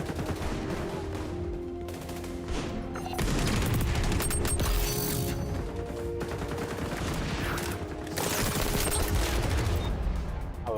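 Video game gunfire in a dense, continuous stream of rapid shots and bursts, loud and close, with mechanical clatter and a surge partway through.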